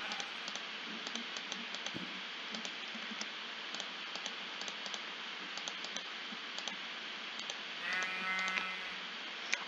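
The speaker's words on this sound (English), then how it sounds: "I can hear sheep outside." Sheep bleat in Minecraft over a steady hiss of rain, with a short bleat near the end and frequent light clicks of keyboard and mouse throughout; no talking.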